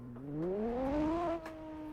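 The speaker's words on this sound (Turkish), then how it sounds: "Aracın sesini duyalım." A Lotus car with a manual gearbox in the Assetto Corsa video game revs up in a rising, droning whine, climbs for about a second and a half, then eases off, close and alone.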